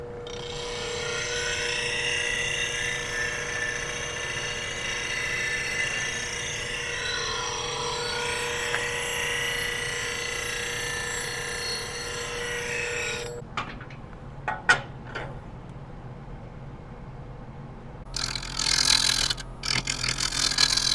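A large maple burl spins on a wood lathe at about 650 RPM, giving a steady, loud broadband roar for roughly thirteen seconds, then a few brief bumps and knocks near the end.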